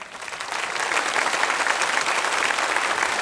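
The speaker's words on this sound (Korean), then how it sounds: "일어나셔서 인사하실 때 박수로 환영하겠습니다." Church congregation at a Sunday service clapping in welcome for retired missionaries, a steady dense round of applause that swells slightly and holds at full strength throughout.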